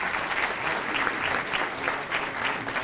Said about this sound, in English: give the Attorney General a quick round of applause